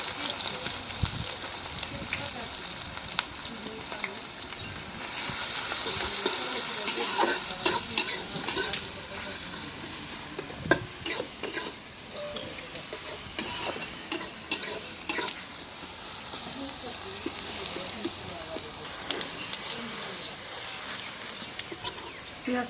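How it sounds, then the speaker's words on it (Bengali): Onions fry in oil with bay leaf, cinnamon and cardamom, a continuous close sizzle punctuated by frequent clattering scrapes of a spatula stirring the pan, with faint birds in the background. "পেঁয়াজটা লাল করে ভেজে নিলাম।"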